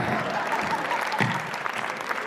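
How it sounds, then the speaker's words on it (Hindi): Audience at a Hindi comic poetry gathering (hasya kavi sammelan) breaking into applause, a continuous, moderately loud patter of many hands clapping without any voices. "जो समझेगा वो ताली बजाएगा।"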